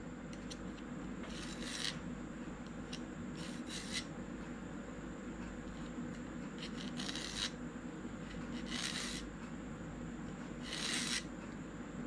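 Short, sharp metallic scraping strokes of a triangle file sharpening a screwdriver tip come in small bursts over a steady background hum, close and fairly quiet.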